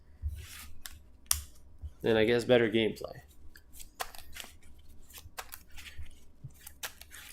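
A deck of Disney Lorcana trading cards is shuffled, a brief riffle of crisp rapid flicking lasting about a second, surrounded by soft clicks and taps while a person speaks.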